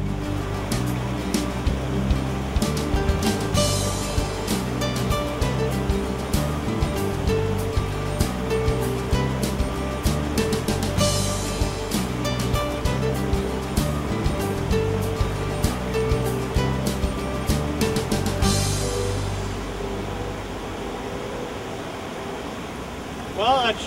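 Rough river rapids on the Mississippi rush and churn around a paddled boat, a loud, dense roar of water with splashes and crackling bursts that fades to a calmer wash near the end.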